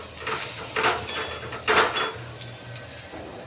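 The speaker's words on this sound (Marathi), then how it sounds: "लवंग, मिरी, दालचिनी सर्व तेलात परतून घेतले." Whole spices, bay leaf, cloves, black pepper and cinnamon, fry in hot oil for masala rice, giving a soft steady sizzle with a few brief scraping stirs and light clinks of a pan.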